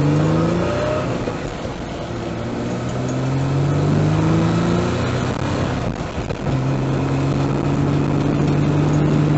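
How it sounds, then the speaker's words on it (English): A car engine hums steadily from inside the vehicle during a short drive around a neighborhood, with a few gentle rises in pitch as it speeds up, loud and continuous throughout. "Just a little drive around the neighborhood,"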